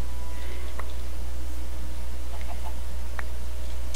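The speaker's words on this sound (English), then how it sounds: "Because now I can kill some chickens" Minecraft chickens cluck in short, faint, sparse bursts over a constant low hum and background hiss, a few soft calls scattered across the stretch.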